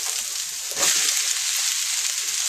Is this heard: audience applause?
no